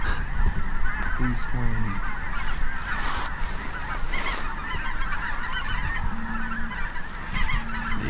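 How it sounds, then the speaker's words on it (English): Snow geese lifting off in a large flock, honking densely and continuously from close range, with a brief voice speaking over the calls. "Geese are getting up the left pod"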